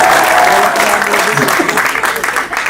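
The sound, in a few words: audience applause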